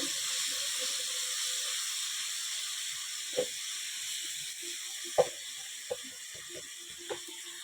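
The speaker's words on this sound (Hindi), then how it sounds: "ये अदरक और लहसुन का पेस्ट हम अच्छे से फ्राई करेंगे" Ginger and garlic paste frying in hot oil gives a steady, quiet sizzle and hiss throughout, with a few soft clicks and taps from stirring.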